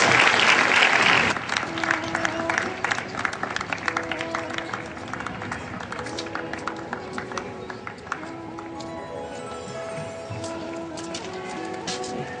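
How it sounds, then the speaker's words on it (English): Applause from an audience at a school peace rally, a loud burst at first that settles into sustained, thinner clapping across about twelve seconds, with faint crowd murmur and some tonal background sound. "Please give them a huge round of applause"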